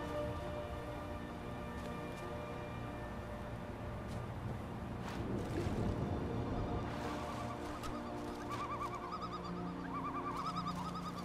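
Birds chirp and coo softly in the Skyrim game world, with repeated tonal calls layered over a steady low ambient hum throughout.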